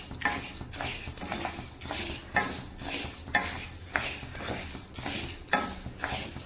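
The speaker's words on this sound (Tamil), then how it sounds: "அதையும் நல்லா நம்ம ரோஸ்ட் பண்ணிக்கலாம்." Lentils being dry-roasted in a pan for paruppu podi rasp and scrape as a utensil stirs them, with regular clinks of metal on the pan, close and fairly quiet.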